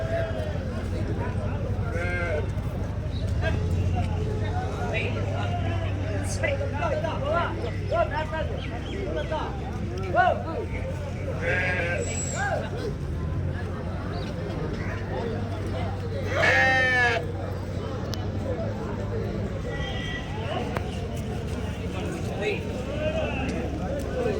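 Sheep bleat at a busy outdoor livestock market in Kadiri, with several calls rising from a constant murmur of crowd chatter and people talking nearby.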